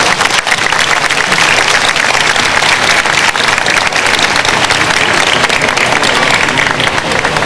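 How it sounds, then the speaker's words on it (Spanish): A large outdoor crowd in Lima's Plaza de Armas, at a Bajada de Reyes pageant, applauds loudly and steadily, a thick wash of clapping sustained across the whole stretch. "Un aplauso para ustedes"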